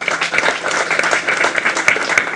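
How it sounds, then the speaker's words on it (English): An audience at a business capacity-building workshop in a hotel claps for the Bishop, giving dense, lively applause close by that lasts throughout. "You have not clapped."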